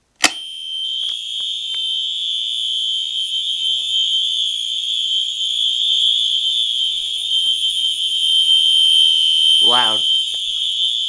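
A building fire alarm system, set off by a pulled pull station during a system test, starts abruptly and blares a loud, steady, piercing alarm tone, with brief speech near the end.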